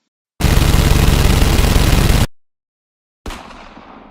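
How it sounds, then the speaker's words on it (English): Fireworks going off early in the morning outdoors: a loud continuous crackling barrage lasting about two seconds, then a pause and a second sharp burst that rings out and fades. "Who's letting fireworks off this time in the morning?"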